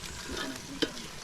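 Sweet corn being stirred in a frying pan over heat, a steady sizzle with soft scraping and one sharper clink of the spoon against the pan near the end.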